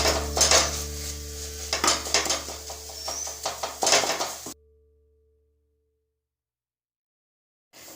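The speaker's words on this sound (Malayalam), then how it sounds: "ഇനി നമുക്ക് ഈ കയ്യിലുകൊണ്ട് തന്നെ ഇതിനൊന്ന് പതുക്കെ പൊടിക്കാം." Cooked anchovies being mashed with a ladle in a pan, a close series of clattering metal scrapes and knocks in uneven strokes for about four seconds, then sudden near silence with no talk.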